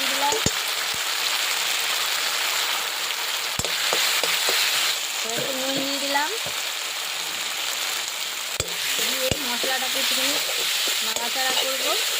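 Tomato, green chilli and ginger paste frying in oil for a cabbage dhokar dalna, a continuous close sizzle with sharp spatula knocks and scrapes against the pan scattered throughout.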